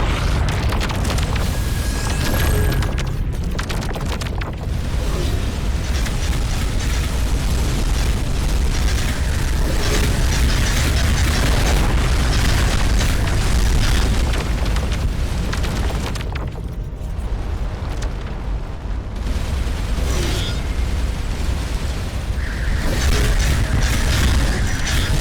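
A ship blown apart in the space game Starcom: Unknown Space, heavy booming explosions rumbling continuously with bursts and crackling debris, loud and sustained, with no talk over it.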